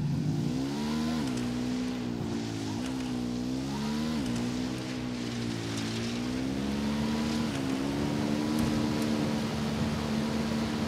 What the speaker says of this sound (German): Ich nehme das Motorrad.